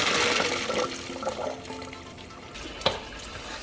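Cold water pours from a tap over freshly cooked pasta in a kitchen sink, a rushing splash strongest at the start that thins out, ending with a single sharp knock.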